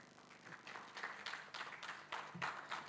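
Audience applause for Professor Dr. Teresa Matoso Victor, a steady mass of hand clapping at moderate level with brief swells, rising toward the end.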